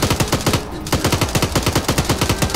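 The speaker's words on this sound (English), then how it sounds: "Gunner, there's a medium machine gunner engaging them." A medium machine gun firing in the military shooter Arma 3, loud, close and relentless, with rapid evenly spaced shots broken by one short gap.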